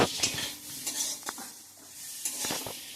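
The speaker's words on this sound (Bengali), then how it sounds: "আমার কুমড়া ভাজাটা হয়ে গেছে" Pumpkin slices sizzling softly in a pan while a spatula stirs and scrapes them, several distinct metal scrapes and taps over a low hiss, quiet and close, with no voices.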